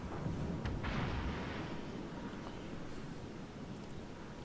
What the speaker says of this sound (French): c'est le Kaiser qui lui tire dessus